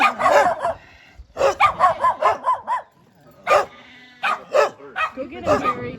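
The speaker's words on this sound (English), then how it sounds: "Hey, puppy. You're loud." Several puppies bark loudly and close by in a lively outdoor setting on a trip in Ecuador, sharp yips coming in repeated bursts with short pauses between them.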